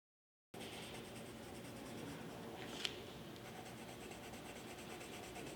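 Colored pencil strokes on paper make a faint, continuous scratchy rubbing that starts after a brief silence and carries on evenly, with one small tap partway through.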